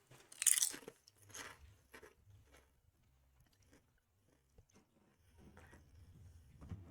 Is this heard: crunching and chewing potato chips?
yes